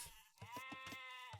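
Sheep bleating in a video game: a single wavering, pulsed bleat that repeats in quick rhythmic bursts, with a short trailing call after a brief pause, clear and close with no talk.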